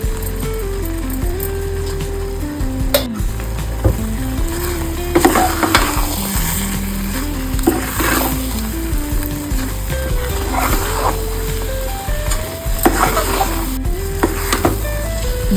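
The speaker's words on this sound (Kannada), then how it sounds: "ಇವಾಗ 1 ಸ್ಪೂನ್ ತುಪ್ಪ ಹಾಕ್ತಾಯಿದ್ದೀನಿ ಲಾಸ್ಟಲ್ಲಿ." Spoonful of ghee stirred into sweet pongal in a pan, a soft continuous sizzle with a spoon scraping and clinking against the vessel at irregular intervals, close and moderately quiet.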